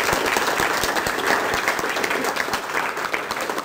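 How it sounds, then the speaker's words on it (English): A conference audience applauds its panelists at an agroforestry gathering, a steady wash of many hands clapping that fills the room at full strength throughout, with no voices rising above it. "let's extend a big round of applause for our panelists up here."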